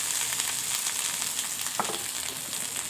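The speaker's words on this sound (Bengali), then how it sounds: "এখন এটাকে শুটকিটাকে সুন্দর করে একটু ভেজে নেব" Dried shutki fish frying in about a teaspoon of oil in a pan, a loud continuous close sizzle and crackle with a brief sharper pop partway through, no voices.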